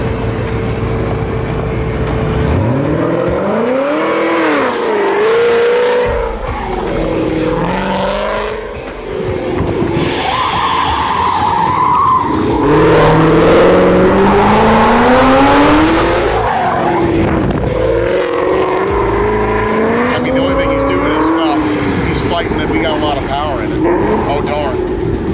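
A Vengeance Racing race car accelerates hard on a track, its engine note rising and falling while the tires squeal and skid through corners. A loud, continuous roar runs throughout, with people talking over it.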